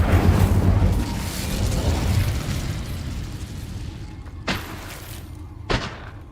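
Fiery spell blast in Hogwarts Legacy, a loud roaring whoosh that decays over several seconds, followed by two brief sharp impacts near the end.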